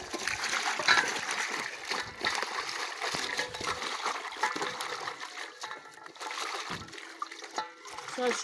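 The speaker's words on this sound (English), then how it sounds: "I'm going to rinse the leaf in this water." Cassava leaf being rinsed by hand in a container of water outdoors, giving irregular close splashing and trickling with brief pauses, while voices talk faintly in the background.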